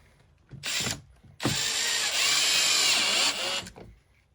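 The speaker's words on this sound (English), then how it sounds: "we're taking 4 of the short screws and attaching our foot" A power drill drives short screws to fasten the foot of a recycled poly dockside ski and board rack, with a brief whir followed by a longer, close, ratcheting run.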